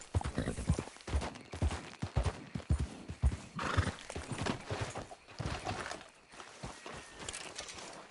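A horse in Red Dead Redemption 2 with loud, close hoofbeats in an irregular clip-clop rhythm, mixed with whinnies and snorts and no talking.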